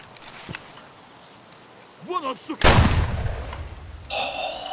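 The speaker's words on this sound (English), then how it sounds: "this shotgun sounds so good" A single loud shotgun blast in the video game Escape from Tarkov booms and rolls off with a long echoing tail, following a brief spoken voice.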